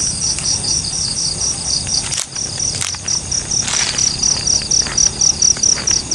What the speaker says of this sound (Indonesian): Ini ada suara jangkrik keras sekali.